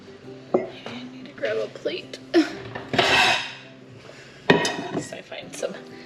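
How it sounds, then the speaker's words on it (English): Ceramic plates and dishes clink and clatter as one is pulled from a stack in a home kitchen during chicken canning, close, with brief speech mixed in. "I need to grab a plate."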